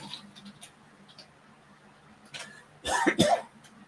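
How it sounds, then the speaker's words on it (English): Two harsh coughs close together ring out near the end, loud and close, after a few faint ticks and clicks in a quiet room. "Sorry about coughing."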